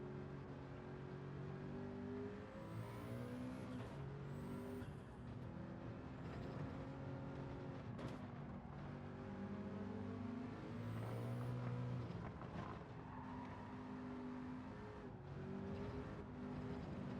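A race car engine in Gran Turismo 7 revs and shifts through gears, its pitch climbing and dropping repeatedly, heard faintly and steadily over the whole stretch.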